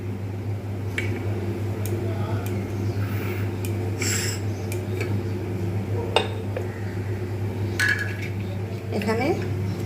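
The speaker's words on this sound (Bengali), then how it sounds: "এখানে মিক্সিং জারটা নিয়ে নিলাম।" A mixer grinder jar is picked up and set down in a home kitchen, giving a few scattered clinks and knocks against a steady low hum, with faint voices in the background.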